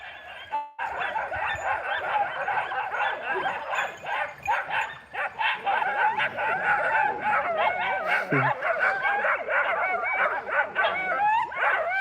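Several dogs bark and yip continuously at close range, high-pitched puppy yaps mixed with whimpers in a busy, overlapping chorus of puppies and adult dogs.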